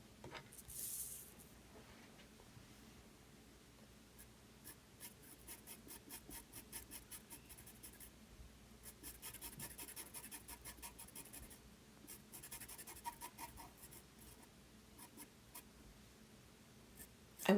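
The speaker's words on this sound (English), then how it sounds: "Now that's a Conti pencil again, in black. Just adding some more shadows." A black Conte pastel pencil shades on paper, making soft, continuous close scratching strokes in quick repeated bursts that stay quiet throughout.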